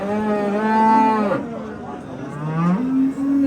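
A cow at a livestock market moos loudly and close by, a long low drawn-out call followed by a second rising moo.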